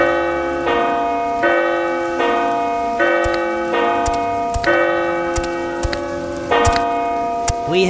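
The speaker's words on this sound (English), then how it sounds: "That's the bell which announces to the brother acting as gatekeeper that someone is waiting outside the door." An abbey gate bell in The Abbey video game, rung by pulling its rope, clangs about six times at a steady pace, each loud ringing strike overlapping the last one's long humming decay.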